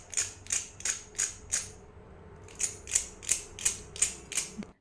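Crisp sago (sabudana) fritters for a fasting-day snack crunching in a quiet kitchen: two runs of five to six sharp, evenly spaced crackles, close and fairly faint, with a short pause between them.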